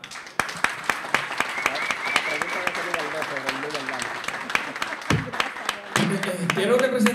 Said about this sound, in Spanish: Quiero que le den un fuerte aplauso al Alfa.